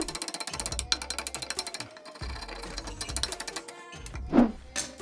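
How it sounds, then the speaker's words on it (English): A scraper works urate off a painted reptile product in fast rhythmic rasping strokes, close and crisp, broken by brief pauses and a louder scrape near the end. "now we're going to do the test against getting the urate out with the scraper"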